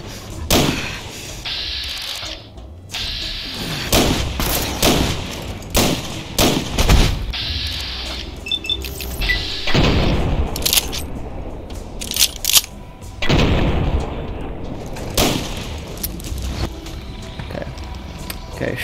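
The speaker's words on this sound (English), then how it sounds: "Shotgun." Shotgun blasts and heavy thuds in the Fallout: New Vegas video game, a string of sharp loud bangs at irregular intervals over a busy game mix, with a voice talking at times.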